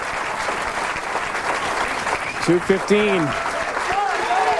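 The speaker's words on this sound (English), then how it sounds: "the big crowd is certainly rooting on the Chief" Large bowling crowd at a PBA tournament championship in Uncasville, Connecticut, applauding steadily throughout, with loud cheers and whoops rising in the middle, under an announcer talking.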